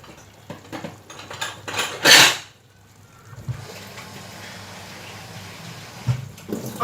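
Water is poured into a pot of banga soup with cow head cooking on the stove, a short loud gush after a few light clinks of utensils, then a quiet bubbling simmer with occasional clanks.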